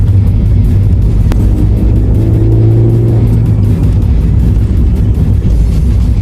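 A Honda Fit tuned with an added 500 bhp accelerates with a loud, close, continuous engine roar; the pitch climbs briefly in the middle before settling back into a steady drone.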